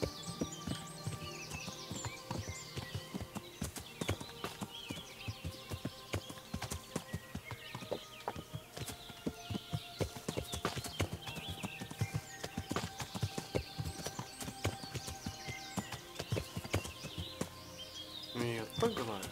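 Horse hooves clip-clop steadily along an overgrown path in Kingdom Come: Deliverance, a continuous close rhythmic clatter of hoofbeats for nearly twenty seconds, with someone talking intermittently over it.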